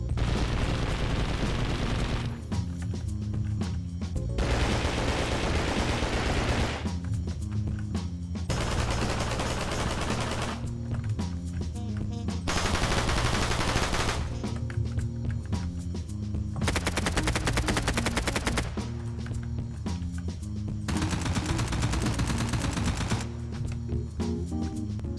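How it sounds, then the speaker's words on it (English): Submachine guns in the video game Anomic fire repeated long bursts of automatic shots into a wall, each rapid volley separated by brief pauses, steady and loud throughout. "So I'm going to be shooting each gun at this wall 20 times"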